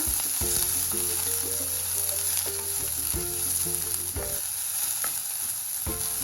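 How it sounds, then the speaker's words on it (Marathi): A medium onion, finely chopped, sautés in a pan with cumin, mustard seeds, curry leaves and asafoetida, giving a loud, steady sizzle throughout with occasional stirring knocks and a faint tonal hum underneath. "एक मिडियम आकारचा कांदा आहे बारीक चिरलेला परतून घेऊ"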